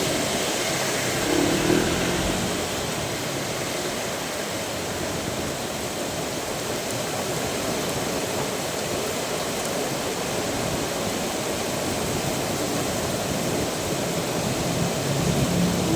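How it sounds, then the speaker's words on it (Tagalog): Heavy rain pours down in a steady, dense roar that holds at an even level throughout, with no gaps or talk. "Buhos na naman ang ulan."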